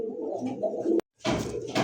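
Fancy pigeons in a loft coo in low, throaty bursts, close and fairly soft, broken by a brief silence before another warbling round of calls.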